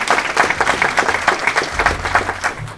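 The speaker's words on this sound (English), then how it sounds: "Please round of applause." Audience applause at an evening event of devotional music held at HSBC headquarters in London: dense, steady clapping from a crowd fills the whole stretch, fairly loud and close, with no voices over it.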